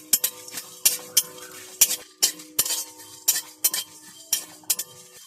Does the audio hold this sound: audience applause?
no